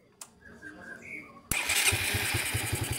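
A Suzuki Satria motorcycle engine with its battery connected is started: a short click and near-silence, then the engine catches abruptly and idles loudly and steadily, close to the microphone.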